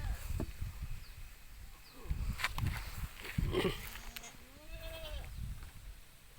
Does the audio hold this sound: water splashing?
no